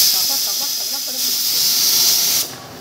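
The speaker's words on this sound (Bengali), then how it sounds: "লাউ শোল হচ্ছে এখানে রান্না।" Snakehead fish cooking with bottle gourd, green chillies and cumin powder in a pan, giving a steady loud hiss of steam and sizzling throughout that drops off sharply near the end.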